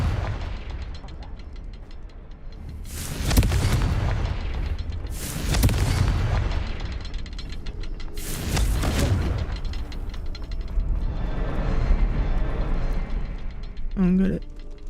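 Confringo fire spell explosions in the Hogwarts Legacy video game: three loud, booming blasts spaced a few seconds apart over a steady game background of rumble and ambience.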